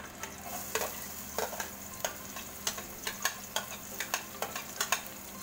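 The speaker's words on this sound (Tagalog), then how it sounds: "Magsusaute po tayo ng garlic." Garlic sautéing in hot oil in a pan for pinakbet, a steady close sizzle broken by regular light scraping strokes of a utensil against the pan, with no talking.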